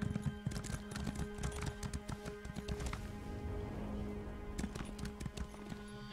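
A horse in Elder Scrolls Online gallops with rapid, rhythmic hoofbeats and gives a whinny partway through, all heard at a low, steady level.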